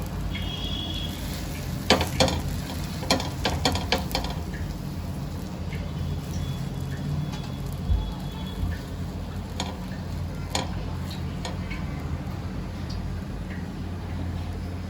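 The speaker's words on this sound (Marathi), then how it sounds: "तव्यावर मी बटर घालून घेते तव्यावर मी एक एक करून ब्रेड चांगलं शेकून घेते" Steady sizzling and hissing of bread slices frying in butter on a hot griddle, with scattered crackles and pops throughout and no talking.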